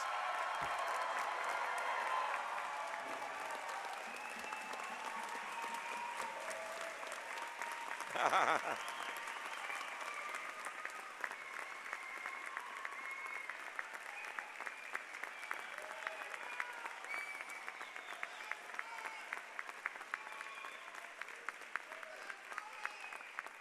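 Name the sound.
commencement audience applauding the graduates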